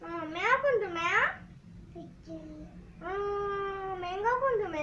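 A voice imitates a cat, giving several drawn-out, rising and falling meows in close succession, loud and near.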